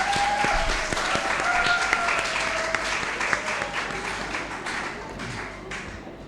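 Audience applause at a World Teacher Day celebration, steady dense clapping from a crowd throughout, fairly loud and continuous.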